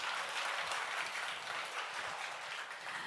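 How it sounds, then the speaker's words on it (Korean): Steady, even applause from a seated audience, a continuous wash of many hands clapping at moderate distance and fairly low level, with no voices rising above it. "박수 한번 주세요"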